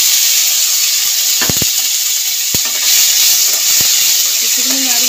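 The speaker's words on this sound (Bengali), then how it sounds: "এবার আমি কুচানো টমেটোটা দিয়ে দেবো।" Chopped tomatoes drop into a hot pan of dried red chillies and cumin tempering, raising a loud steady sizzle with a few sharp crackles and a stirring scrape midway; no one speaks.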